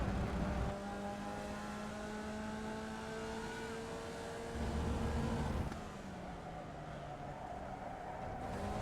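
Formula Vee race car engine in iRacing on the Rudskogen circuit, a steady buzzing drone that drops in pitch as the car downshifts to second gear, continuous and close throughout.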